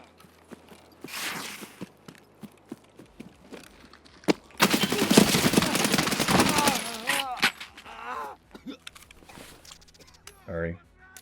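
Rapid gunfire erupts in a video game shootout, a dense sustained burst of shots in the middle with scattered single shots before and after, while someone talks over parts of it.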